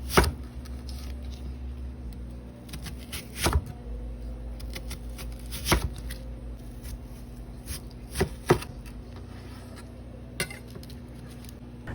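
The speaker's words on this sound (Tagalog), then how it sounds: "atin namang hiwain ng pabilog ang 2 pirasong sibuyas na puti" A knife slices two white onions into rings on a cutting board, producing a sparse series of sharp, close chops at irregular intervals against a quiet kitchen background.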